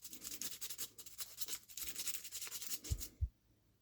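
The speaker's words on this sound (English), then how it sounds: "Take your piece of sandpaper and sand it this way." Sandpaper rubbed by hand over the outer surface of a bearing from an Eaton M62 supercharger, a steady scratchy rasp of repeated strokes, close and fairly quiet, ending with a couple of low knocks before falling silent.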